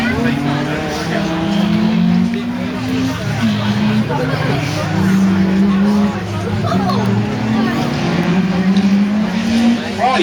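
BMW 325 rally car with a 2.5-litre straight-six, competing on a stage rally, roars loudly and steadily close by, its engine note rising and falling through gear changes, with a voice talking over it.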